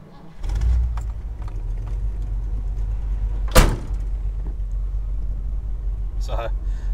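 A 1978 right-hand-drive Ford F250 Custom with a 4-speed rumbles low and steady as it gets underway. A sharp clunk cuts in midway and light rattles sound over the engine drone.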